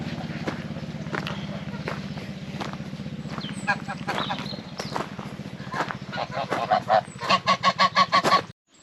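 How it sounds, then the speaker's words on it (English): Geese honk on a farm at Els Calderers in Mallorca, a rapid run of loud nasal calls building toward the end, close by, with footsteps and some background noise. "Well, the geese here are very friendly."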